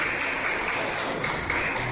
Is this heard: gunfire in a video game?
no